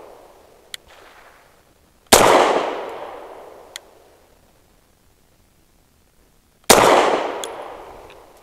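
Two loud, sharp gunshots from a BUL M-5 Jet pistol fired at a range, each with a ringing decay, spaced about four seconds apart and heard alone.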